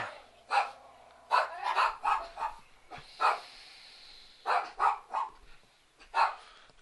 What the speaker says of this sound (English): Just wait for the dogs to quieten down there.